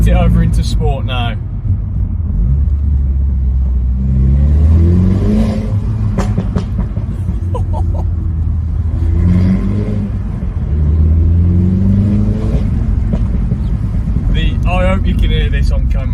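A Mini John Cooper Works in sport mode revs hard through repeated rising and falling engine sweeps, with sharp exhaust pops and crackles, loud and close from inside the car, while someone talks over it.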